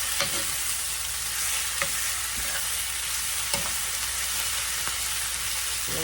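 Ground beef empanada filling sizzles steadily in a pan while being stirred, with occasional soft scrapes and clicks of the utensil over the constant close frying hiss.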